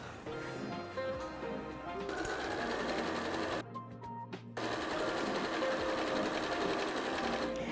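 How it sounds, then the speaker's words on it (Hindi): A sewing machine runs steadily, stitching a quarter-inch seam on a Dutchman's puzzle quilt block for a hot pad. The motor hums continuously, pauses briefly about midway, then resumes at an even pace. "लाइन के दोनों तरफ क्वार्टर क्वार्टर इंच पे आप सिलाई करेंगे।"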